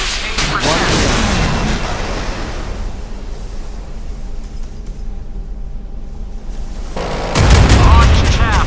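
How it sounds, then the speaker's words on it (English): Anti-aircraft guns on a ship in the naval combat game Modern Warships fire at an incoming missile, a loud sustained rattling barrage that thins out midway and then swells again with heavy booms near the end. "AA Division, destroy the missile."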